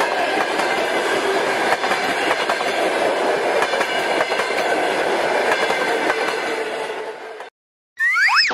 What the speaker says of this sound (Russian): Отлично! Это поезда.